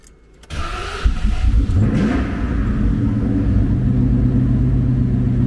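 A blown 5.0 engine cranks with the accelerator held to the floor to clear a flood. A short click comes first, then a loud, steady cranking rumble that carries on without stopping.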